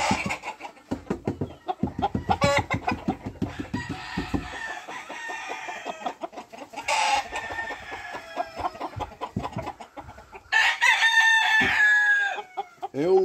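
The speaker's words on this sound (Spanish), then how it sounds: "Es un gallo de todo mi gusto" A yellow gamecock rooster of about four pounds crows loudly and repeatedly, with clucks and other fowl calls in between and a few sharp bursts near the end.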